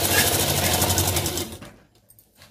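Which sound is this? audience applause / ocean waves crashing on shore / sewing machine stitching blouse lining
sewing machine stitching blouse lining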